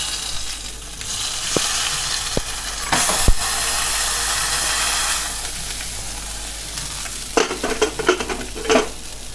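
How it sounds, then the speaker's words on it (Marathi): A hot garlic tadka poured into dal khichdi in a pressure cooker erupts into a loud, sustained sizzle and steamy hiss, with a few sharp utensil clanks and clattering near the end. "हा मस्त तडका त्याला बसलेला आहे"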